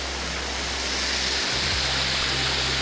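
A big waterfall roars as a loud, steady hiss of rushing water that fills the whole clip without a break, heard up close on a mountain adventure race course.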